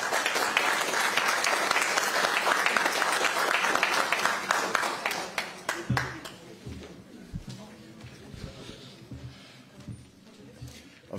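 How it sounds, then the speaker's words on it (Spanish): Loud audience applause at a government press conference, sustained vigorous clapping for several seconds that abruptly drops off, leaving scattered claps and low room noise. "un aplauso para ustedes."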